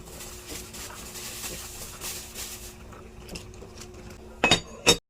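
A pot of fish tinola is handled and its lid comes off, giving two sharp metallic clinks close by after quieter rustling and faint kitchen noise.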